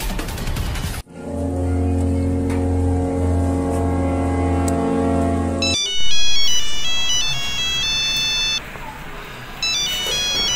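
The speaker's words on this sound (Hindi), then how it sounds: "फोन बज रहा है।" A mobile phone plays a loud electronic ringtone, first a sustained droning tone and then a rapid, repeating melodic pattern of bright beeping notes.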